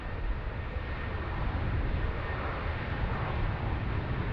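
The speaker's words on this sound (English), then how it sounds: "Qantas 580, they're getting underway, heading off to Hamilton Island." A Qantas airliner getting underway at Sydney Airport, heading off to Hamilton Island: a steady, broadband jet-engine roar holds at an even level for the whole stretch, with no voices over it.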